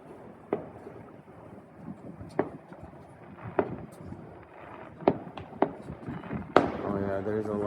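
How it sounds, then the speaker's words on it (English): Canada Day fireworks set off at night on the horizon and near a building, heard as scattered sharp distant pops and bangs over wind noise, with a person talking at the end. "there's a lot of fireworks going on tonight"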